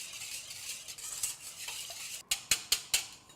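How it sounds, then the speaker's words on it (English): Whole egg and vanilla extract whisked together in a bowl, a soft steady scraping stir followed by a few sharp clinks of a utensil against the bowl near the end, close and fairly quiet, with no talking. "So I'm adding the egg and the extract, mixing that together"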